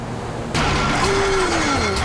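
A boat engine in Grand Theft Auto V suddenly kicks into a loud, steady mechanical roar with a wavering whine, as the engine fails, continuous and close.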